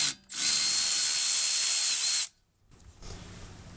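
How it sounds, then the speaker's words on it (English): A power tool, likely an impact driver or drill with a 6 mm Allen bit, whirs steadily for about two seconds while loosening the rear brake rotor bolt on a 2014 Mini Cooper, then stops and quiet shop sounds follow. "Now the rotor is held in place by this little Allen head bolt. I'm just going to try to loosen that."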